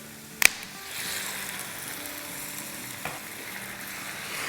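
Chicken pieces and onions fry in a pan for jalfrezi, making a moderate, even sizzle, with a sharp metallic clink near the start and a softer knock later.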